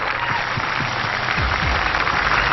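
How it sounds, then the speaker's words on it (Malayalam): A studio audience claps steadily for two singing-contest finalists at a televised finale, a dense, continuous wash of applause that holds at even loudness throughout. "രണ്ടുപേർക്കും നന്നായിട്ട് കൈയടിച്ച്."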